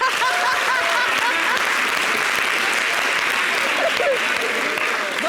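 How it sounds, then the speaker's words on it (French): Sustained studio audience applause on a TV variety show, loud and continuous, with scattered laughter and voices mixed into the clapping. "Ça s'applaudit."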